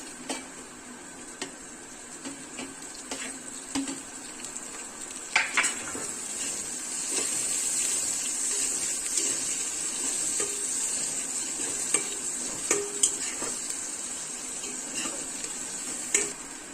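Green chillies frying with softened onions in a pan for Telangana fish curry, a soft continuous sizzle broken by scattered metallic clinks and scrapes of a utensil stirring against the pan.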